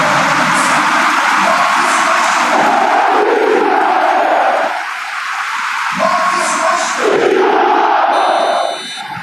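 Stadium crowd in the football video game PES Mobile 2020 roars and cheers continuously at high volume, the dense wall of noise dipping briefly midway before surging again.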